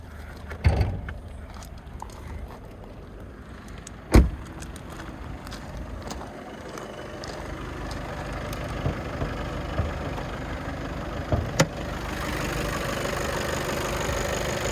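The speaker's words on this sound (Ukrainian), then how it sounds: "давайте вийдемо, послухаємо, як автомобіль працює" Skoda Superb 4x4 Laurin & Klement, a 2020 model, idling quietly with the bonnet open, a steady low engine hum heard close up with a few sharp knocks and clicks over it and no talk.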